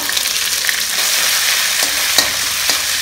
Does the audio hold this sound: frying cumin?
yes